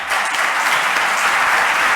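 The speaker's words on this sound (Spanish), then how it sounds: "Por favor, un aplauso para Sara" Audience applause at a One Health congress opening, loud and close, a dense even patter of many hands sustained for about two seconds with no voices.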